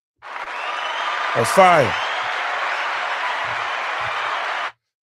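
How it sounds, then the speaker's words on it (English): A crowd at a live show gives a sustained round of applause, a steady wash of clapping that stops abruptly, while a voice briefly calls out over it. "Let me give you a round of applause"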